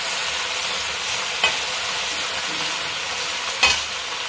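Saag greens fry in a pan with a soft, even sizzle and two brief utensil clinks, no voices.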